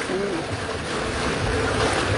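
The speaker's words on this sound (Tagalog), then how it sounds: "Grabe yung alon." Floodwater waves sloshing around a bathtub used as a boat in flooded Malabon streets, a continuous rough wash of water with wind buffeting the microphone, steady and close throughout.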